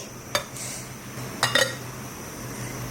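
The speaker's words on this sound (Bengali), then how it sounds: "এখন মনে হচ্ছে একটু শক শক করে নাড়ি" Rice being stirred in a small pot from a mini rice cooker, a few brief metallic clinks and scrapes of a spoon against the pot, close, over a quiet background.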